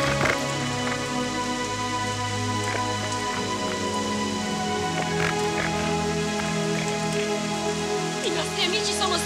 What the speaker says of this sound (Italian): Non avrei mai creduto che mi facesse tanto piacere una giornata di pioggia!